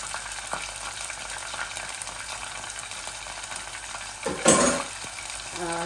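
Vegetables for a dried fish and potato curry sizzle and fry steadily in a pan throughout, with a louder burst of crackling near the end as food is stirred or added.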